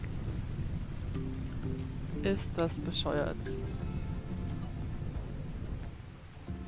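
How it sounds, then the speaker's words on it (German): Steady rain falls in the video game RimWorld, a continuous wash of noise with a brief low rumble of thunder partway through, all under someone talking. "Ah, es regnet."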